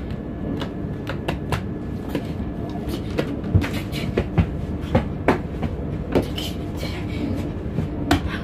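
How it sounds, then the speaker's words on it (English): A train on the Uckfield line rolls along with a continuous low rumble and a regular clickety-clack of wheels over rail joints, loud and close, with no talk. "And that's how you move a train with."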